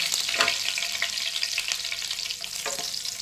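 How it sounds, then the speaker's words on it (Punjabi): Curry leaves sizzling in hot oil as a tempering for a no-onion eggplant and tomato dish, a dense continuous crackling fry close by with a couple of stirring touches. "ਤੇਲ ਗਰਮ ਹੋ ਗਿਆ ਹੁਣ ਇਹਦੇ ਵਿੱਚ ਪਾ ਦਿੰਦੇ ਐ ਕੜੀ ਪੱਤਾ"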